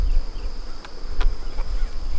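Honey bees buzz around hives in a bee yard during a nectar dearth, a steady close droning hum with individual bees briefly zipping past the listener.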